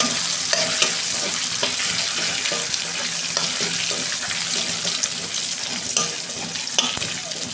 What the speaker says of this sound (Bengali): তেল দিচ্ছি কড়া একটা তেজপাতা দিচ্ছি গোটা জিরে দিচ্ছি